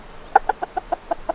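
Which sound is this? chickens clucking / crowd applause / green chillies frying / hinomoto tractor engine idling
chickens clucking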